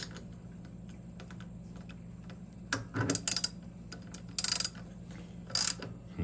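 Short bursts of metallic clicking and ratcheting come from tightening a bolt with a wrench and Allen key on a motorized bike crankset sprocket, quiet and intermittent over a low hum.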